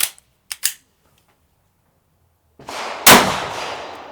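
A GSG 1911 .22 pistol fires a few sharp, close shots in quick succession, then a louder crack sounds amid a noisy rush that trails off.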